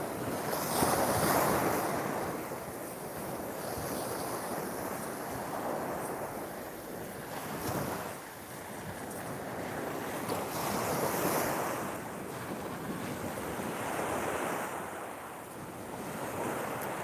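Surf washing in steadily at Margate Beach, Redcliffe, with wind buffeting the microphone; swelling, broad rushing waves rise and fall in slow surges, loud and close, with no voices.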